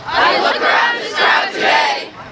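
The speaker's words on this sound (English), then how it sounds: "I look around this crowd today" A crowd of student demonstrators at a protest rally cheers and shouts in loud, swelling roars that rise and fall in several waves, with no single voice standing out.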